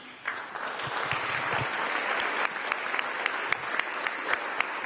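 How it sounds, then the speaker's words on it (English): Applause from an audience in a Senate chamber for an honoured person, a steady wash of many hands clapping at moderate, somewhat distant level throughout. "So I'd like a warm round of applause for Jim Rossi."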